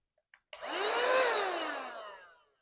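A cordless rechargeable mini car vacuum cleaner starts up after a couple of clicks, its motor whirring up to a steady high whine and then winding down, close and alone.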